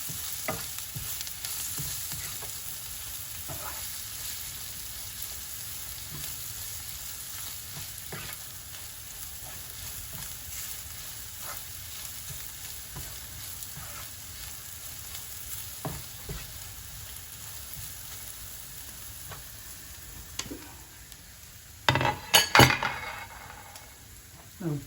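Spices with garam masala and cinnamon powder stirred in a frying pan for a vegan mushroom fry, a faint continuous sizzle with light utensil scrapes and a short clinking burst near the end.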